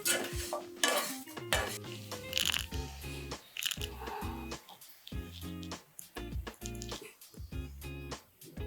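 Pineapple pieces and sugar cooking in a pot, with clinking of utensils against metal, stirring scrapes and a light sizzle, quiet under background music.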